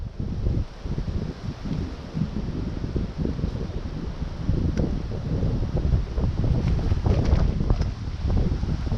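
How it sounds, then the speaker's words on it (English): Wind blows across an open mountainside, buffeting the microphone in uneven low rumbling gusts that swell and ease without pause and grow rougher toward the end, with no one speaking. "Okay, wind coming up."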